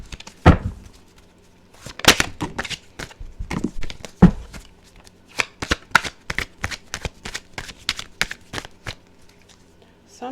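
A deck of tarot cards is shuffled by hand in a series of crisp riffles and flutters, close and fairly loud, in irregular bursts over a quiet background.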